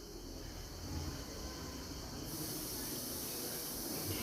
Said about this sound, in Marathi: आता आपल्याला ह्या तुपामध्ये हे खसखस लाल होईपर्यंत भाजायचं आहे।